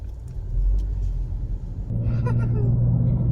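A 2022 Honda Civic Touring's engine catches again after an auto start-stop shutdown, a low steady rumble that swells into a firmer idle hum partway through, close and unaccompanied by talk.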